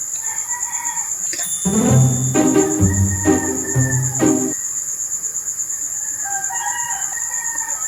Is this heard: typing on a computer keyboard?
no